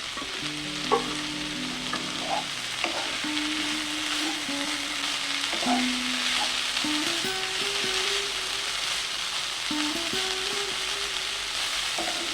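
Five chopped green chillies fry in oil in a pan over a medium flame, giving a continuous close sizzle with light stirring taps. Soft background music plays underneath, and no one speaks.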